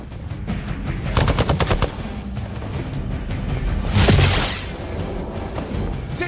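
Rapid machine-gun bursts from the Marvel's Midnight Suns video game, a loud rattling volley followed by a booming blast, with steady game noise underneath.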